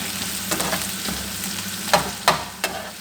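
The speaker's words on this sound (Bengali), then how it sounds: "পেঁয়াজ, রসুন, কাঁচামরিচ এগুলো আমি ভালো করে ভেজে নিই" Garlic, onion and green chillies fry in a pan for begun bhaji, a continuous sizzle punctuated by a few sharp scrapes of a spatula near the end.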